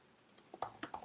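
Typing on an Apple MacBook Pro 16-inch keyboard, a quick run of soft, close key clicks that grow firmer over about a second, with no talking.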